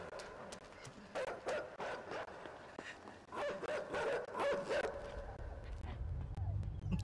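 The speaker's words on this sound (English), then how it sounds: "Stupid dog." Dogs in the video game INSIDE give a run of sharp barks and yips that come closer and grow louder, followed by heavy scuffling and rumbling at the end.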